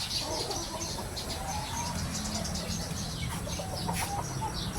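Chickens in a backyard coop with hens and chicks, clucking softly against a steady outdoor background, with a few sharper chirps and calls standing out near the end.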